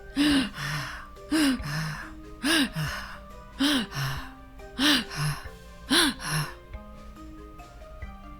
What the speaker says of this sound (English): Herbert's panting was kind of scary